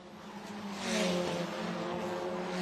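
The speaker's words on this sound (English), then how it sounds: "Just look at these TCR cars through the undulations of Villarreal." TCR touring race cars run at speed on the undulating Vila Real street circuit, a sustained engine roar that swells as a car passes close by, then holds at a steady, high-revving drone.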